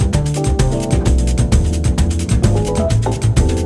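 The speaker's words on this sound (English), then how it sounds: "I just played without any quantization a Fender Rhodes and added it to the whole mix." Warm, unquantized Fender Rhodes electric piano chords played loosely over a full, steady Brazilian swing mix with bass and drums, loud and continuous throughout.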